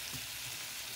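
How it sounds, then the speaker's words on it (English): Onions fry in a pan for carbonnade de boeuf, giving a steady, dense sizzle that stays close and even throughout, with no talking. "So I wanted to get the onions frying"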